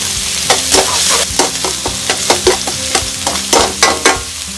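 Green onion, garlic, ginger and chili stir-fry in hot oil in a Chinese-style pan, with a loud, steady sizzle broken by repeated sharp scraping and tossing strokes in an uneven rhythm, close up and with no talking.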